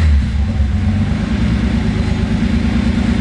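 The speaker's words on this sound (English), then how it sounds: "The car is cold, and listen to the throttle response" A cold car engine with Megasquirt engine management idles roughly and revs, a loud, steady low rumble close up with slight throttle swells.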